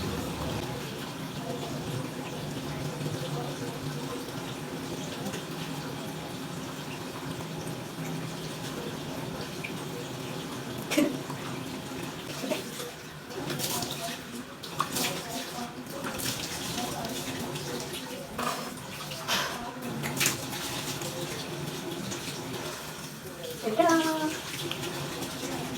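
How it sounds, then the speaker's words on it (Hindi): Tap water runs steadily while a face is washed with an ordinary face wash in a home bathroom, a continuous moderate splash with occasional louder splashes and handling clatter. "उसके बाद आप अपनी किसी भी पसंद के फेस वॉश से जो है आप मुँह धो सकते हो"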